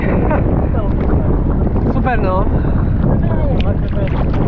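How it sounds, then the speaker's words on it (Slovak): Strong wind buffets the microphone at Ghadira Bay beach in Mellieha, Malta, as slightly bigger waves roll in, producing a loud, constant roar throughout while a person talks over it. "už máme aj troška väčšie vlny a troška viac to fúka"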